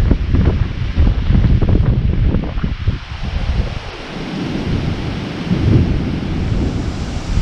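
A thunderstorm closes in at night in the Deep South. Loud, rolling thunder rumbles deep and heavy, with wind buffeting the microphone and a hiss of rain. It eases briefly midway, then swells again.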